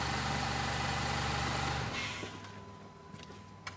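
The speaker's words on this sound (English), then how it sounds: "let's go ahead and shut this engine off" A 2015 Honda CR-V engine idles with a steady low hum, then cuts off about halfway through, leaving quiet background with a few faint clicks.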